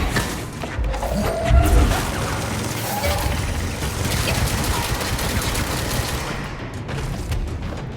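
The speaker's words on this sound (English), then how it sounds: "You got a machine gun" Automatic gunfire rattles through a dense, loud game soundscape in Alan Wake, with a heavier boom near the start and sustained noisy action throughout.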